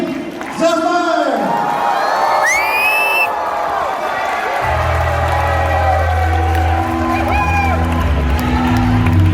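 Crowd at a concert in Vancouver cheering, whooping and clapping under loud amplified voices, with music swelling in partway through and the excited noise continuing to the end.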